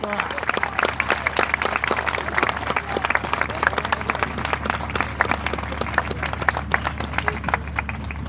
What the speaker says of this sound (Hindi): और मैं चाहता हूं आपकी तरफ से एक जोरदार ताली होनी चाहिए।